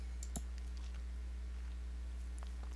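A few light computer mouse clicks sound while a search result is selected, close and soft over a steady low hum, with scattered faint ticks in between.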